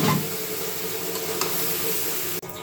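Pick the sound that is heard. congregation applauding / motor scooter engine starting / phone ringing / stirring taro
stirring taro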